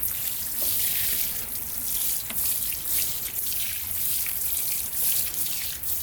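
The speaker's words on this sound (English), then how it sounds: "I'm just going to give them a little bit of water like this." Water pours steadily from a can over newly sown vegetable seed containers outdoors, a continuous hissy splashing and trickling with slight surges, moderately close and unaccompanied by talk.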